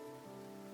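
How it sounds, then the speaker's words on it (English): Steady rain falling in a visual novel video game, a continuous even hiss with no breaks, heard on its own. "It's raining, isn't it?"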